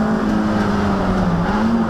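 Onboard engine of a Toyota MR2 race car lapping Snetterton in a championship race, a loud, steady droning hum with a slight pitch dip and rise as revs shift, continuous and close with no voices.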